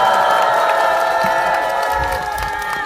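A crowd at a memorial ceremony claps warmly, steady loud applause with some cheering that carries through the whole stretch, fading slightly toward the end.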